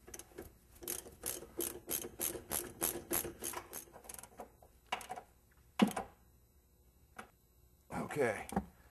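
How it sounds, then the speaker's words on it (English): Hand ratchet tightening the fasteners on a car's shock absorber strut, a fast run of evenly spaced clicking bursts up close, then a few scattered single clicks and a final short burst. "Now both fasteners can be tightened down tight."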